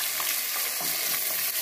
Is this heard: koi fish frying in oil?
yes